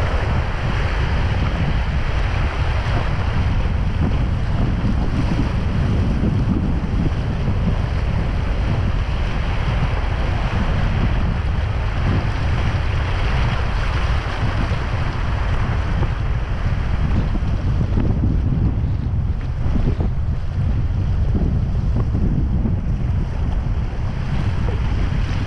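River rapids rush continuously at the tail end of Schoolboy rapid in Split Mountain, a loud, steady broadband roar of churning water close by, with no talking.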